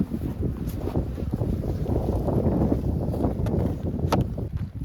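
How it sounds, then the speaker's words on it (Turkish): Strong wind at an open beehive buffets the microphone with loud, continuous rumbling gusts, steady throughout with no talking. "Çok rüzgar var."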